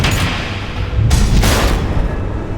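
Missile explosions in Batman: The Enemy Within: a dense, loud, rumbling roar with a couple of sharp bright bursts near the middle, continuous and without talk.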